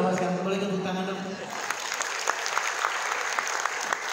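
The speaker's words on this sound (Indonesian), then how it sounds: "boleh tepuk tangan dong" Sustained audience applause at a health talk on drug-free holistic wellness, dense clapping running steadily throughout, with a voice over the first second and a half.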